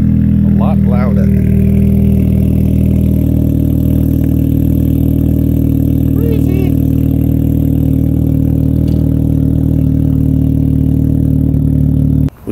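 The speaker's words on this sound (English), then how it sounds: "We couldn't do any more exhaust clips on the street." A loud, steady engine drone from a Honda Civic Si with a rumbling K-Tuned aftermarket exhaust, recorded from inside, with faint voices underneath.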